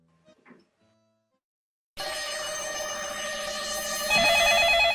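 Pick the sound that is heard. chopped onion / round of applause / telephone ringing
telephone ringing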